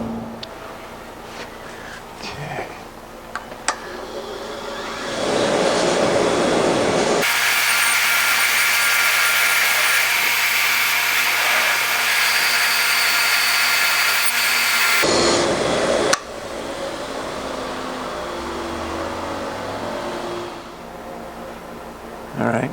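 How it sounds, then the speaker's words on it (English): A wire wheel grinds rust off the threads of a machine screw for a Bridgeport mill riser, a loud steady whir lasting several seconds between quieter shop noise, with no talking. "I'm just going to touch it with a wire wheel and clean up the rust on there and soften the threads a little bit"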